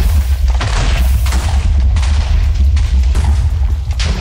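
TNT blasts in Minecraft as a string of loud, deep booms rolling one into the next, close and continuous with no voices over them.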